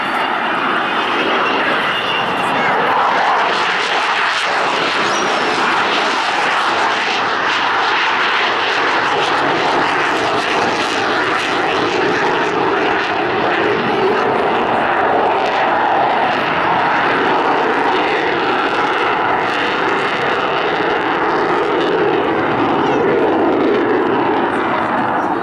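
An Avro Vulcan bomber makes a display pass at the Cosford Airshow, its engines a loud, steady roar that holds for the whole stretch with no voices over it.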